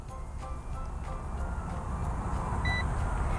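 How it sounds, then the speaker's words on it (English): A no-contact forehead thermometer gives a single short, high beep near the end, fairly faint over a steady low background hum. "For my blind and visually impaired friends, you may even hear the beep"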